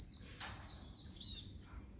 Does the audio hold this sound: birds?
yes